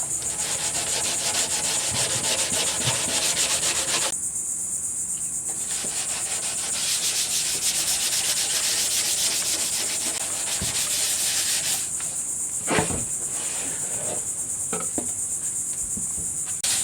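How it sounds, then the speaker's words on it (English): Wet sanding of surfboard fiberglass with 100 grit cloth paper, a continuous close scrubbing rasp in rapid strokes that briefly softens and resumes, with a high insect-like hiss running underneath throughout. "Now we're just wet sanding it first with 100 grit"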